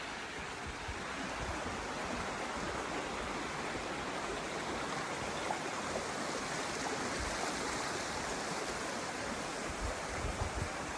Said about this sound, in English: I was wanting to show you guys some waterfalls